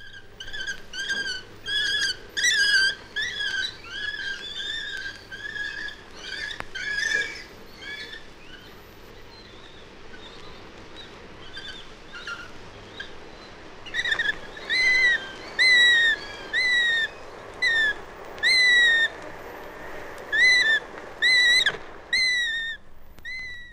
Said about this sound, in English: But the young sparrowhawks are still in the nest. They call with a hunger that never seems to be satisfied.